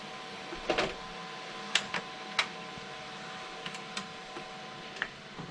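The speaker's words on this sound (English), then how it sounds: "So should just print in a second." A printer running while it prints a vehicle number plate, giving a quiet steady mechanical hum broken by a few sharp clicks and ticks spaced out over several seconds.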